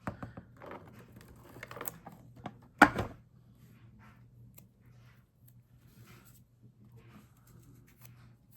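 A tape runner lays adhesive onto a papercraft piece in a run of light clicks and taps, one sharp louder snap, and then faint scattered handling in a quiet room.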